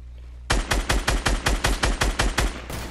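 Gunfire in Fortnite Battle Royale, rendered as a rapid string of about ten loud, evenly spaced shots that runs for a couple of seconds with no voices.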